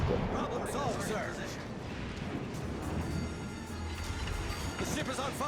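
Naval gunfire and explosions rumble through a World of Warships: Legends battle featuring the premium battlecruiser Constellation, a dense continuous roar of booms and bursts layered under steady talk.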